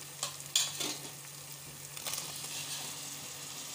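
Chopped tomatoes drop into a hot frying pan for mutton kurma, sending up a steady close sizzle and frying crackle, with a few stirring clatters early on.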